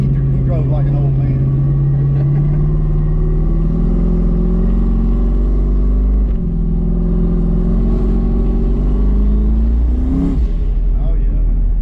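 A 1200 hp Camaro engine idles loud and close, its low rumble climbing in pitch as it revs several times, while people talk over it.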